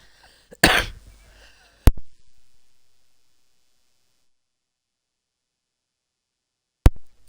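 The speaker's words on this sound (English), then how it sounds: "that cough just will not leave me alone" A person coughs hard in a short, loud burst, followed by a second sharper single cough and, after several seconds of near silence, a third brief cough, with no talking.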